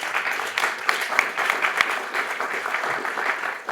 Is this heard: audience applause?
yes